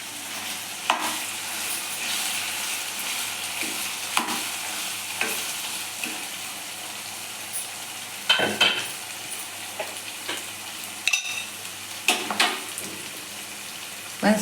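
Chicken liver curry sizzles and fries in oil in a pan, with intermittent stirring scrapes and clinks recurring every second or two, close and steady without any voices.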